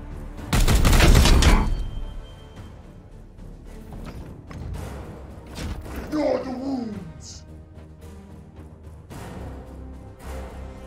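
In Warhammer 40,000: Chaos Gate - Daemonhunters, a loud, close burst of gunfire roars for about a second near the start, followed by quieter game sounds and a voice speaking later.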